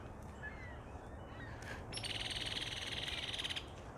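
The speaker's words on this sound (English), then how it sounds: "The birds were chirping like crazy today." Birds chirping outdoors on an early spring day in Delavan, Wisconsin, faint scattered calls over steady broadband outdoor noise, then a rapid repeated trill for a couple of seconds, no people talking.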